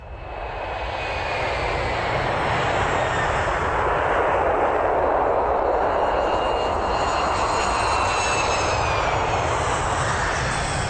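Airplane in flight, a steady loud engine roar that swells over the first two seconds and then holds as an even drone, with no voices.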